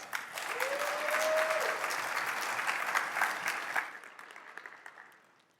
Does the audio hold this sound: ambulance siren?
no